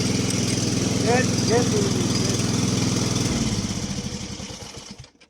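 A walk-behind lawn mower engine runs loud and close with a steady throbbing drone, then winds down and sputters to a stop near the end while a voice speaks briefly over it.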